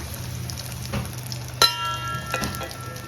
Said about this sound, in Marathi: गरम झाल्यानंतर त्यात थोडेसे जिरे आणि दालचिनीचा तुकडा टाकून ड्राय मसाला